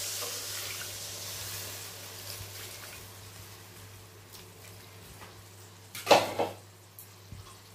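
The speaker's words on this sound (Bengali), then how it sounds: "এবারে আমি জলটা অ্যাড করব।" Water is poured into a pot of Bengali fish curry (macher jhol) with sautéed vegetables, a soft steady pouring hiss with a louder splashy burst near the end and a faint clink of cookware.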